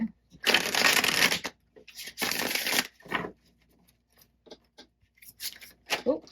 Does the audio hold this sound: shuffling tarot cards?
yes